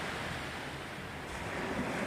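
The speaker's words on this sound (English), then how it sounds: "here I sit to the sounds of the oceans, and you can see the waves behind me" Ocean waves washing onto the shore, a soft steady surf wash with a faint breeze, fairly quiet and continuous with no talking.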